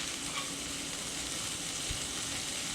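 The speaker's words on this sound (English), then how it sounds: "we're going to be smashing into these patties" Burger patties sizzle loudly and steadily on a hot griddle as they are smashed flat, with a constant dense hiss of frying fat and an occasional soft scrape or tap, and no voices.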